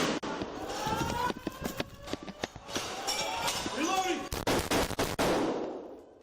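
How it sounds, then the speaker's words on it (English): Police body camera captures a rapid gunfire exchange with a shooter armed with rifles and a handgun: many sharp, loud shots in quick bursts and overlapping volleys, with voices shouting amid the firing. "rounded the corner and laid eyes on Hale, the body cam shows officers rapidly firing as the shooter blasted bullets in their direction"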